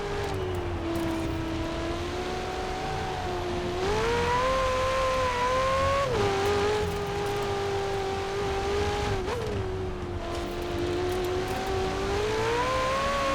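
A European supercar such as a McLaren 720S, Ferrari 488 GTB or Audi R8 V10 screams up a hillclimb track, its engine note rising through gears with brief dips at each shift, loud and continuous.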